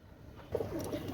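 A pair of Oman teddy pigeons coos in short, soft, low calls, a few gentle notes close by over quiet background hiss.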